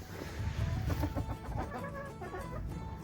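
Young rooster crowing among quail and poultry in a small backyard flock, a short broken crow with clucking, close and fairly loud with no talk.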